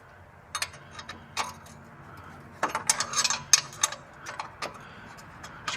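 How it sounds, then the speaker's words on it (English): A wrench works a bolt on a Triumph TR6 engine near the clutch slave cylinder, producing irregular metallic ratcheting clicks, sparse at first and then quicker bursts, close by. "Let's get a wrench on that."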